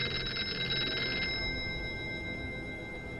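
An old-style telephone bell rings with a rapid metallic trill in a short burst in the video game Here They Lie, then fades, heard over a low ambient hum with no talk.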